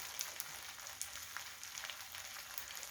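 Food stir-frying hard in a pan for a Korean home-cooked meal, a steady close crackle and sizzle with sharp pops scattered throughout, no voices.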